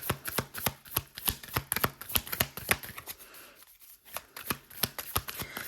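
Tarot cards are shuffled by hand in a rapid run of crisp riffling snaps, close and distinct, pausing briefly near the middle before the flicking resumes.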